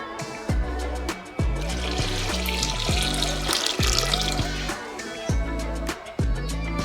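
Water splashes and gurgles steadily into a pot on the stove for sambar, the pour repeating in several short bursts with a faint hiss, and no one talking.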